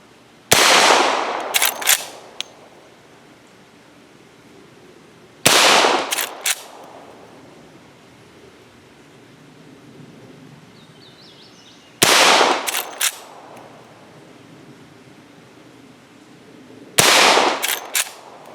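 Henry Big Boy Silver lever-action rifle in .357 Magnum firing at a 55-yard steel plate: four loud, sharp shots spaced several seconds apart, each followed by a short ringing tail and a few clanks or clicks, with quiet outdoor ambience between.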